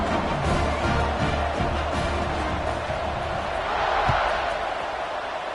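Stadium crowd at a Stanford versus UNC college football game roars steadily through a kickoff, a dense broad wash of cheering and shouts with no distinct voice standing out.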